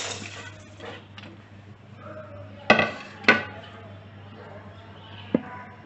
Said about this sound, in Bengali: চুলা একটা কড়াই বসাই দিছি, এখন এই মশলাগুলো এর মধ্যে দিয়ে দিব